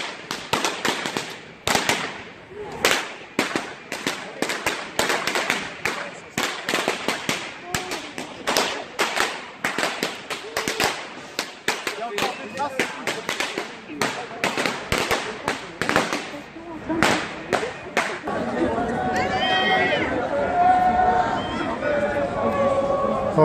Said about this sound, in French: Alors ces pétards là, c'est censé calmer les gens, les effrayer un petit peu pour qu'ils se calment.